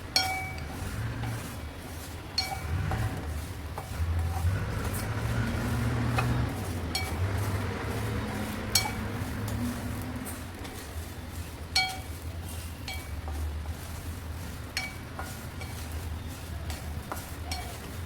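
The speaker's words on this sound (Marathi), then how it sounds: "आता मी हे शेंगदाणे टाकते ह्याच्यात आता हलवत राहायचं चांगलं" Peanuts roast in hot salt in a pan and are stirred constantly, producing a gritty rustling churn with frequent light clinks and scrapes against the metal, close and steady throughout.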